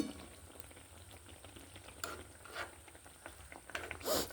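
Fig bora curry bubbling in a pot, a continuous soft boil with popping and light sizzling, heard close and fairly quiet, with a few louder bubble bursts toward the end.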